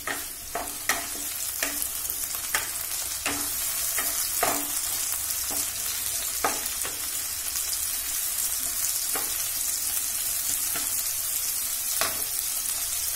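Onions frying in hot oil in a pan on a gas stove, a steady dense sizzle throughout with occasional sharp clicks and scrapes from stirring, close and fairly loud, no talking.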